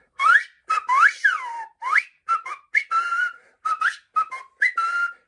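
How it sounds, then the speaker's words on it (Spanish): Someone whistles a cheerful, bouncy tune in short sliding phrases, clear and close with no other sounds. "Y se puso a chiflar de alegría."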